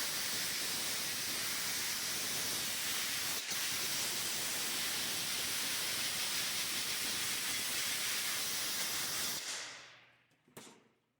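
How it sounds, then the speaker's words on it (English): Compressed air blasts steadily from a nozzle, blowing water off a freshly washed 4L60 transmission plate, a loud continuous hiss for about nine seconds that cuts off, followed by a brief short puff. "Get all that water off there with"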